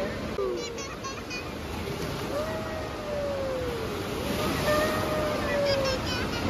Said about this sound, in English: Here comes the wave!